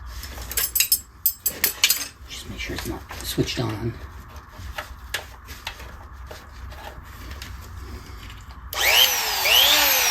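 A power tool plunges into the body of a purple Stratocaster guitar. Its loud, close, whining cut bursts in near the end after a stretch of faint handling noises and talk.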